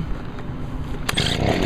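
A 2015 Honda HRR216 lawn mower engine kicks briefly after a pull start, a short rough sputter and rumble that surges near the end, heard close up and loud.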